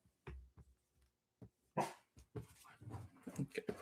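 A dog barks and yips in a few short bursts, first spaced apart and then crowding together into a busier stretch of barking toward the end, fairly close and alone without talk.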